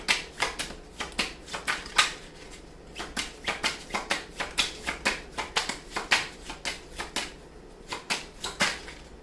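Tarot cards shuffled by hand in a steady run of crisp, rapid riffling slaps and flicks, close and fairly loud, repeating about three times per second with no talk over them.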